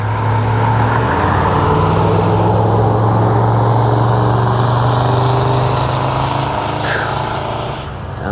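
A loud, throaty engine of a 1969 Dodge Charger runs steadily and close by, its low rumble holding through the whole stretch with slight shifts in pitch.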